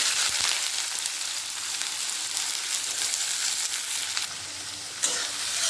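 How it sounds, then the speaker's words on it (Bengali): Finely chopped onions hit hot mustard oil, giving a loud, dense, continuous sizzle close up, with a single clink of a utensil near the end. "তেল ভালোভাবে গরম হয়ে গেছে এর মধ্যে দিয়ে দেবো মিহি করে কুচি রেখেছি পেঁয়াজ"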